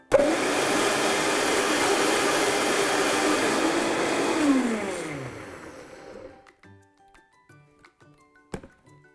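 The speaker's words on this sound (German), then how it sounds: "Ich gebe das Ganze in einen Mixer und püriere es gut" A blender purees thawed frozen strawberries with a loud, steady whirring roar for about six seconds. The motor then winds down in pitch and stops, followed by a few quiet clinks.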